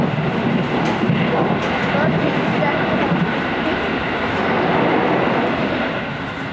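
A JR 313 series rapid train on the Tokaido Line runs steadily, a loud continuous rumble of wheels and motors from inside the car with faint rail rhythm throughout, no voices standing out.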